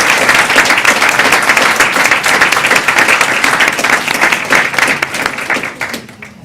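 An audience gives a softball championship team a long, loud round of applause, dense steady clapping filling the room before it thins out at the end.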